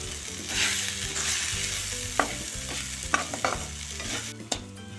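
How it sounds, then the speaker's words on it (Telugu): Bansi rava semolina toasting in a pan while being stirred, a steady low sizzle broken by repeated scraping strokes and a few sharp clicks of the spoon against the pan. "ఈ రవ్వను కూడా ఇందులోనే కొంచెం సేపు ఫ్రై చేసుకున్నాము"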